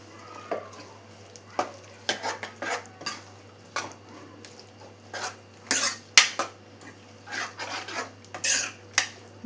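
Utensil scraping and clinking in a pan as kadala curry with roasted coconut is stirred, a series of irregular close metallic scrapes and taps with short pauses between, no talking.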